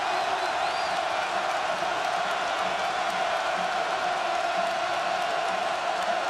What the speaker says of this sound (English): The crowd in a frenzy with 7:09 to go